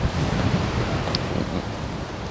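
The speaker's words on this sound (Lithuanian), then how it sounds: "Šilta, bet labai didelis vėjas." Strong wind in Bahrain roars steadily across the microphone, loud and constant with gusty rumbling and no voices.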